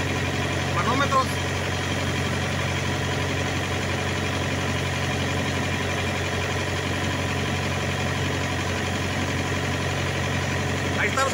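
A car engine idles steadily after being restarted, a constant close hum with a couple of brief clicks, no talk over it.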